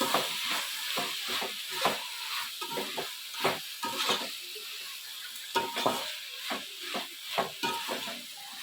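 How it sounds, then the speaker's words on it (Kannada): A ground paste for a tondekayi palya fries in a pan, low sizzling broken by frequent stirring scrapes and light clinks of a spoon on the pan, irregular and close, with no speech. "ಈಗ ಚೆನ್ನಾಗಿ ಫ್ರೈ ಮಾಡ್ತೀನಿ"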